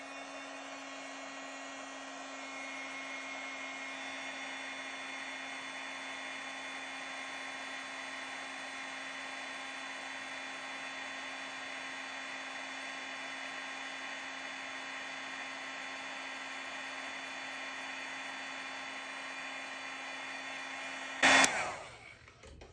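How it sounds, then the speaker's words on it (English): A heat embossing gun melting embossing powder, a steady whirring hum of the fan and heater running continuously at close range for over twenty seconds, then a brief louder clunk as it shuts off. "you're going to take your heat embossing gun and melt the powder"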